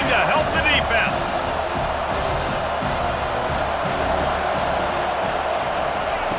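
A stadium crowd roars in EA Sports College Football 25 during a late fourth-down defensive stand, a dense continuous wall of cheering and noise with a game commentator talking over it.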